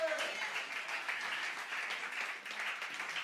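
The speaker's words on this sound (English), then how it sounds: "Give him one last round of applause" A congregation at a Friday prayer-house service applauds an evangelist, a sustained, moderately distant roll of many hands clapping at an even level.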